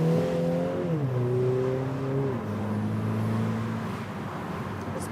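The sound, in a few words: MINI JCW convertible turbocharged 2-litre 4-cylinder engine revving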